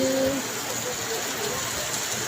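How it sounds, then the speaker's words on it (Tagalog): Heavy rain pours steadily in Tagaytay near the Taal view, a continuous broadband hiss that stays even and close throughout, with a brief faint tonal hum at the start. "Lakas ng ulan."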